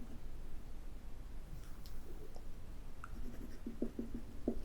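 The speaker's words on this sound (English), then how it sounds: "as I write?" Pen scratching across paper while a letter is written in a quiet Victorian-style setting: soft, faint strokes and small ticks that grow into a short run of firmer scratches near the end, with no talk.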